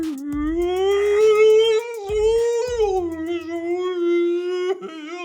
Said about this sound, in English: It's like a whale sound.